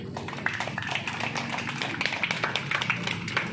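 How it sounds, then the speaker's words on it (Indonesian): A church congregation clapping hands in a quick, uneven patter of many claps, moderately loud and continuous for a few seconds. "Coba tepuk tangan dulu buat Tuhan Yesus."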